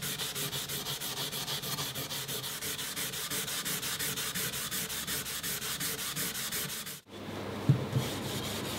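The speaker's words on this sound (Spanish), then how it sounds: "Un abrasivo muy suave y que va a dejar un acabado bastante agradable sobre la hoja del cuchillo" Steady, even rasping of fine abrasive sanding across the blade of a Castilian knife, continuous and close for several seconds, then stopping abruptly with a couple of soft knocks.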